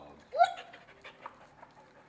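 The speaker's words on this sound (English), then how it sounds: "He has a hard time breathing because of his nose and his sinuses." A pug with breathing trouble from its nose and sinuses gives one snorting, wheezy breath, then soft, quick panting that fades, close but quiet.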